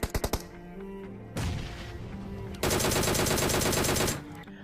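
PUBG video game gunfire: a few sharp single shots, then long sustained bursts of rapid automatic fire, loud and close with no voices.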